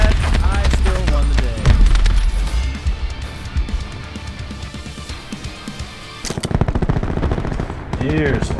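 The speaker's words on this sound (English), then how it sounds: "two guys gonna be shooting at me" Two enemies fire at the player in a video game, with rapid loud bursts of automatic gunfire in quick succession while someone talks over much of the action.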